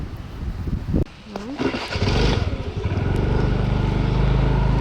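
A brief spluttering start of a scooter gives way to a loud, steady low engine rumble that keeps running close by, with a voice briefly heard early on.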